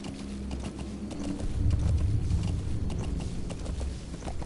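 Horse hooves clatter at a gallop in the video game Metal Gear Solid V: The Phantom Pain, a fast, steady clip-clop rhythm over a low mechanical rumble, close and continuous without voices.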